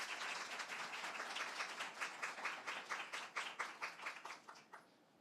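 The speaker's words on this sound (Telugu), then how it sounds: "గట్టిగా చప్పట్లు కొట్టి ప్రభువుని మహిమపరచండి" A church congregation claps together in a steady, even rhythm that holds for several seconds and then fades out with a few last claps.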